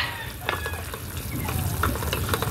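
A sarciadong tilapia mixture gets stirred in a pan, with soft sizzling and scraping, wet stirring sounds in irregular strokes over a low background hum.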